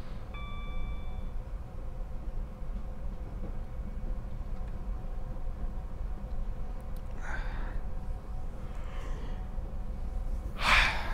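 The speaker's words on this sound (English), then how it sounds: "that was a sharp intake of breath" A person takes a sharp, breathy intake of breath, a few short airy gasps standing out near the end over a steady low rumble of a train cab.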